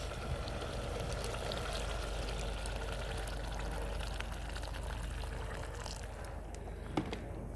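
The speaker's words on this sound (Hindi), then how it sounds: "तो अब हम इसमें पानी ऐड करेंगे" Water poured into a potato and mutton curry cooking in a pot, a steady continuous gurgling pour with a hissing stream, close and alone.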